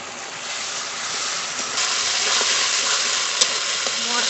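Duck curry masala sautéing with a splash of water in a pan gives a loud, steady sizzle and frying hiss throughout, with occasional faint stirring scrapes.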